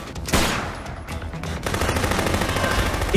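Rapid automatic gunfire from the Wii version of the zombie game Dead Rising, a loud sustained burst of shots that continues steadily with a dense, rattling rhythm and no talking.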